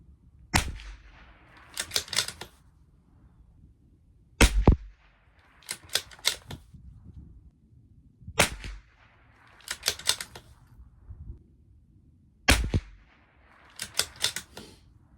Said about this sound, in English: this is the first mag out of this rifle